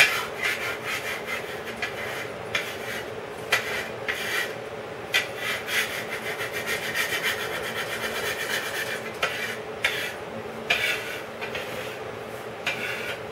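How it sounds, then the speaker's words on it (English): Flour tortilla dough is kneaded by hand on a work surface, giving steady, close rubbing and pressing sounds with soft slaps in an uneven rhythm and no talking. "So you just keep kneading it"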